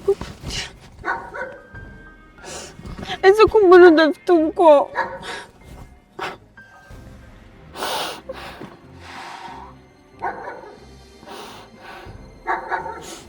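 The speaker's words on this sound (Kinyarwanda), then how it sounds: "umva n'imbwa zishaka" Dogs bark and yelp at night in a rural village, a short cluster of excited barks rising between stretches of close conversation, with more scattered barking later.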